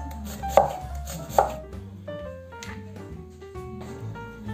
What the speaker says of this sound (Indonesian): Bagi kalian yang ngirisnya satu-satu pakai peso